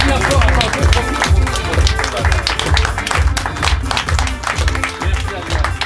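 Audience at an improv festival in Paris claps along in a strong regular rhythm, with loud beats over crowd noise and scattered voices.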